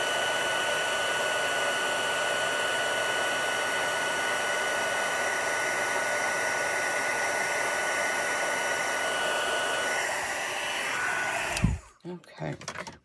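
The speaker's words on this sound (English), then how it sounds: "once you get that heat tool going, it doesn't take long" A heat tool for embossing a stamped card runs with a steady, close, loud whooshing blow for most of the time, then clicks off, leaving brief handling noises.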